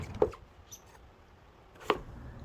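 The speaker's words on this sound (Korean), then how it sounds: "무는 적당히 잘라서 4등분을 하고 먹기 좋게 큼직큼직하게 썰어줍니다" A knife cuts a large radish into big chunks on a cutting board, giving two separate crisp chopping thuds with a quiet pause between them and no one talking.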